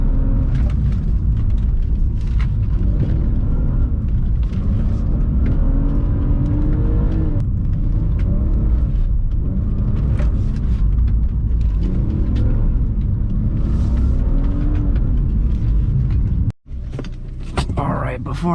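A BMW E46 rolls over bumps with a constant low road rumble and cabin thuds, a sharp jolt near the end, while someone talks throughout.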